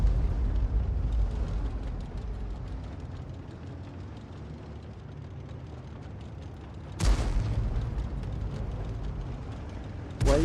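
Tank cannon fire in a tank video game with an Object 261 artillery vehicle: a low rumbling bed of engine and battle noise, then two sharp loud booming shots, one near the middle and one at the end.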